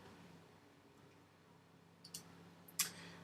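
A couple of small, sharp computer mouse clicks, faint and close, the second crisper than the first, over a quiet room hum.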